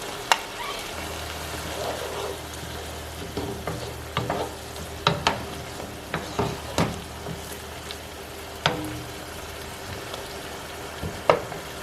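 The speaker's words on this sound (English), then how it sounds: "It's just going to simmer there on the burner." Vegetables for okra soup frying and simmering in a pot on a stove burner: a steady quiet sizzle with a low hum beneath, broken by scattered stirring clacks that grow more frequent.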